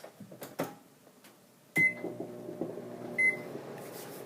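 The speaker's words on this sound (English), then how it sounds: "You're going to heat it up in the microwave for about a minute, minute and a half." A microwave oven hums quietly while it runs, with a couple of short beeps and small clicks and clatters, no talking.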